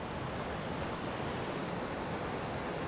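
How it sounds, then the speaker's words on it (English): Steady broadband rush of river water flowing at a crossing on a hiking trail in Fundy, loud and continuous with no breaks and no voices over it. "All right, we got a river crossing."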